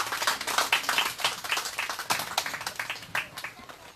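Audience clapping for a performer being welcomed on stage at a Seongju candlelight rally, a steady patter of hands throughout that swells and dips slightly in waves.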